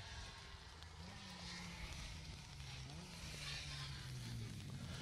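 A small Mini rally car on an asphalt stage drives through standing water, its engine droning steadily beneath a wet hissing spray, heard from a distance and fairly faint.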